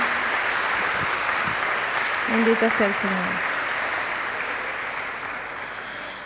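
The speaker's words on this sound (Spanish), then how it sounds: "Vamos a darle un aplauso al Señor" A church congregation gives steady, sustained applause during a sermon, the even roar of clapping filling the room while a voice briefly speaks over it, then slowly tapering off.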